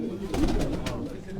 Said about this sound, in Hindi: बड़े अच्छे कबूतर बैठे